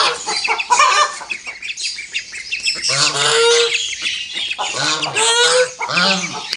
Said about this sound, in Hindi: यहाँ पर ये वाले जो डक्स हैं बेबी डक्स के पीछे हैं, और सिल्की चिकन भी बड़ी मुश्किल से बाहर आ गया